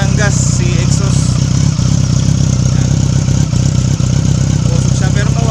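A Yamaha R6 sport bike engine keeps running after a hard start, a loud, steady, close idle with a fast, even pulse, while someone talks over it.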